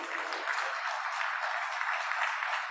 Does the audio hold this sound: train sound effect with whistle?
no